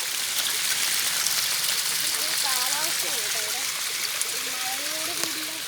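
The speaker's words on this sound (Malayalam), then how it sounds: "ഇതാ വെള്ളച്ചാട്ടം." A waterfall swollen by heavy rain roars in a continuous, dense rush close by, with a voice speaking briefly over the water partway through.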